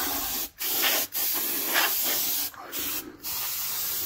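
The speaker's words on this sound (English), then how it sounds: "blew it out with some compressed air, usually what we do is blow it out real well" Compressed air blasts hiss loudly while blowing dust out of a furnace during a yearly tune-up, several close bursts separated by brief pauses.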